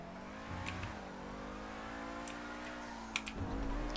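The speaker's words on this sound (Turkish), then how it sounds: "Arabanın sesi mükemmel." An SC1 car's engine in GTA 5 Online hums steadily and rises and falls in pitch as it revs, a continuous close drone with a couple of brief clicks near the end and no talking.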